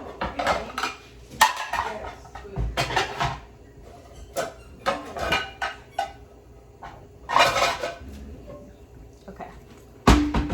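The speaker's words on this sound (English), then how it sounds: "Now I am going to get the frying pan for the fried chicken legs." Pots and pans clattering as a frying pan is pulled out in a home kitchen, sharp metallic clanks and rattles in irregular bursts with quieter handling between them, close and loud.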